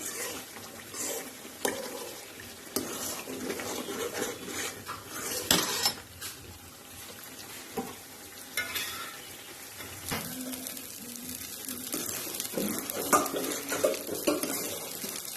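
Homemade ghee is stirred in a pan, with irregular metal scrapes and knocks from a spoon against the pot over a soft bubbling simmer, loud at moments and quieter between strokes, and no talking.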